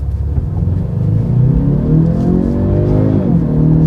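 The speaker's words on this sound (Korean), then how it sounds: "그런 면에서 이런 정도의 엔진 사운드 아쉽지만 이해는 할 수 있습니다." A Genesis G70 2.0T engine pulls under acceleration, a loud, smooth rumble whose pitch rises through the gears in a short, continuous run.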